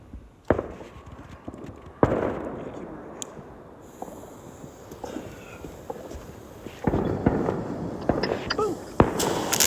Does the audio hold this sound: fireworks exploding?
yes